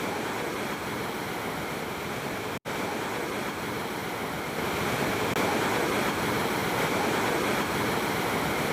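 Water roars out through the opened gate of the KRS dam at Srirangapatna in Mandya district. It makes a loud, continuous, close rush with no talking, briefly cut by a short dropout.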